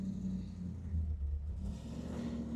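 A 400-horsepower Mercedes G-Wagon engine rumbles steadily on its first drive, a continuous low, close idle-like drone that swells slightly mid-way.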